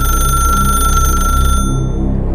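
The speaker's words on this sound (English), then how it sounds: "a shrill, mechanical ring that echoed through the rooms" An old rotary telephone rings with a shrill, steady mechanical bell tone that holds for about a second and a half, then a low hum lingers alone.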